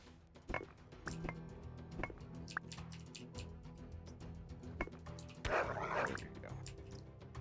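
Dogs in the game Keplerth bark and yip in short sharp bursts, scattered irregularly over a low background hum, with a denser flurry of noise near the end.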